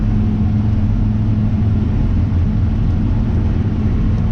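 A John Deere 9400 tractor engine under load pulling an 18 ft Krause Dominator during fall tillage, a loud, steady low diesel rumble with no breaks, heard close without talk.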